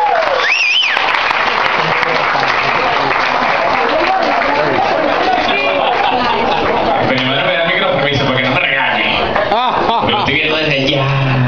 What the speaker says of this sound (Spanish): El señor Gabriel Maestrachi, señor, un aplauso.